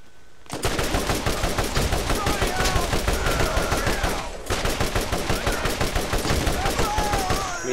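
Rapid sustained machine gun fire in Borderlands, a loud dense stream of evenly spaced shots that runs almost nonstop, broken by one brief pause before the firing resumes.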